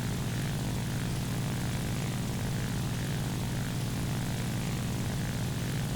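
A Soviet P-39K fighter's propeller engine drones steadily in War Thunder, a loud, unbroken roar filling six seconds with no talk over it.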